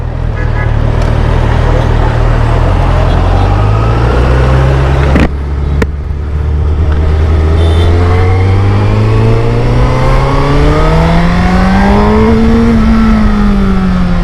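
A Honda CBR 1000 RR SP inline-four superbike being ridden through Kochi, its engine revving up through rising pitch sweeps, close and loud, with a gear change partway through.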